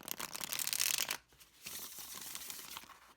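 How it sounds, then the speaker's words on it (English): A tarot card deck is riffle shuffled up close, with a dense, crisp flutter of cards that stops abruptly partway through, followed by a softer rustle of cards being bridged. "I am going to go ahead and riffle shuffle this deck"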